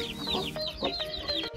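Hens clucking as they peck at millet, several short overlapping clucks close by in a steady feeding chatter, with other farm birds faintly around them.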